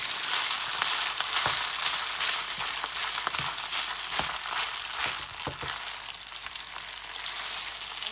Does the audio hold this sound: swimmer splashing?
no